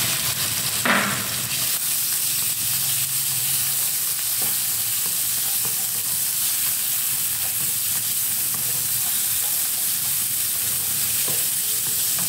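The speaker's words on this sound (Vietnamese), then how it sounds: "Khi tỏi nó dậy mùi thơm lên các bạn sẽ cho thịt vào cho mình nhé." Pork stir-fries with garlic in a pan as a steady sizzle, broken by a sharp scrape or clatter near the start and a few light stirring knocks afterward, with no talk.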